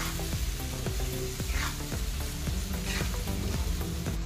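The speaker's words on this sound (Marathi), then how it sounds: "याला परतताना एकदम अलगद परतायचं, जास्त बारीक त्याला होऊन द्यायचं नाहीये." Mutton brain gently stir-fried in a kadhai for bheja fry, a dense steady sizzle of hot oil with soft, regular spatula strokes scraping through it, close and loud without any talk.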